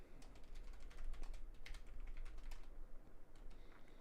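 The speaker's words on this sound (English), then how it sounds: "I start typing" Rapid clicking of a computer keyboard being typed on, steady irregular keystrokes close to the microphone with a quiet low hum underneath and no talking.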